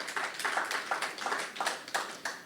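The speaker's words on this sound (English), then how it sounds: "Let's give that a round of applause." Applause at a cultural conference in a North Hamilton entertainment complex, soft and somewhat distant, with rhythmic clapping in regular bursts.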